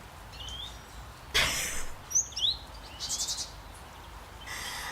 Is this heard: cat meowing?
no